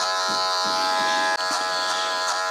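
An entry-level Super Taper electric hair clipper cuts hair during a fade, giving a loud, close, steady buzz with a brief dip partway through.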